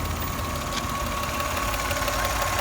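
A Toyota Camry 30 with a 3.0 engine idles, a steady close mechanical hum with a faint ticking knock running through it, no voices.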